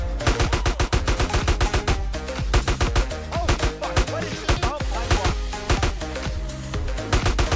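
Rapid, dense gunfire from GTA San Andreas, bursts of shots crackling almost continuously and loud throughout, with no pauses between volleys.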